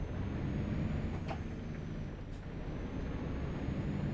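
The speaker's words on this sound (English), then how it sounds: "Kind of souped up car is that?" A souped-up car driving past in Euro Truck Simulator on a road in northern Sweden, a loud, steady engine rumble with a brief rising whine, heard from inside a truck cab, no voices.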